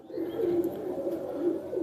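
Teddy pigeons from a tournament-flying bloodline coo in soft, repeated throaty phrases close by, with no other sounds.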